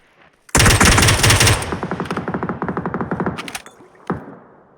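Mutant rifle from the PUBG video game firing in rapid bursts: a dense, loud opening volley, then a steady string of sharp repeated shots fading with echo and a final isolated crack.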